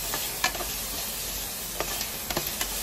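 Beef adobo being stirred in a pan: a soft, even sizzle with a few sharp spatula taps and scrapes against the metal, fairly quiet and close.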